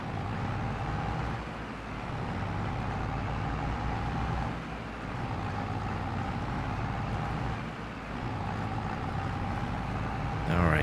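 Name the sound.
tractor engine driving uphill in Farming Simulator 22 video game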